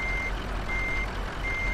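Truck reversing alarm in the Euro Truck Simulator 2 driving game, three evenly spaced steady beeps repeating over a constant low engine rumble.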